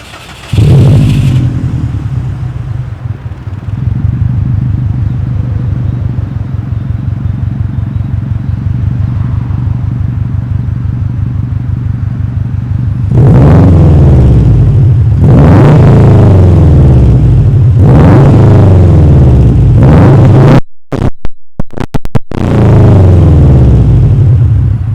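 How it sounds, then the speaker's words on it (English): Car engine held at a loud steady idle, then revved in several sharp bursts, each release ending in a turbo dump-valve whoosh, recorded close. "you can hear it has got a nice little dump valve on it"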